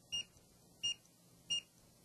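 A Datalogic barcode scanner with Green Spot technology beeps three times on successful reads, short crisp high-pitched tones evenly spaced about two-thirds of a second apart against quiet room background.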